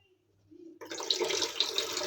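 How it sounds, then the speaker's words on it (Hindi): Water gushes steadily into a toilet flush tank cistern after a quiet start, with a hissing, splashing rush that stays loud and close to the end. "पानी भर रहा है"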